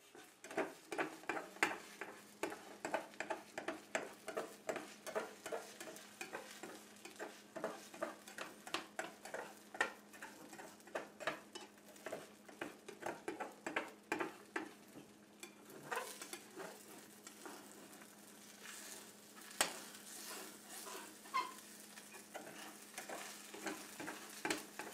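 Scrambled eggs sizzle steadily in a frying pan, a soft, constant crackle with a faint hum beneath and occasional light clicks and stirring sounds, with no one speaking.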